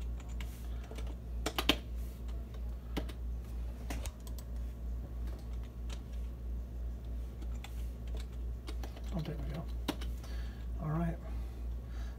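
Username and password being entered on a computer keyboard as a short run of quiet, close key clicks over a steady low fan hum, with a few isolated taps spread across the stretch.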